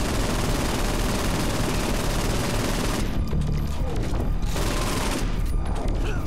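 Loud, dense gunfire fills a Saints Row 4 video game firefight, with sustained rapid bursts running unbroken across the whole stretch and heavy booming weight beneath.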